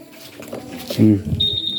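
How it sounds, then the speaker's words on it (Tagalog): A person speaks briefly, then a single thin, high electronic tone from a 2025 Honda keyless car alarm activating starts and holds steady to the end. "Isang press lang, na-activate na yung alarm niya."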